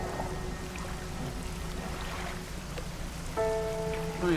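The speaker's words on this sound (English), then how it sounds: "a rainy day today." Steady rain patters over water in the fishing game Dredge, a soft even hiss throughout, with faint tonal hums of the boat and game ambience rising near the end; no voices.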